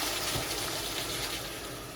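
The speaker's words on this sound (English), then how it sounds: "So now I put water." Water pours and gushes steadily into a pot of meatballs in tomato sauce for a couple of seconds, a continuous splashing fill.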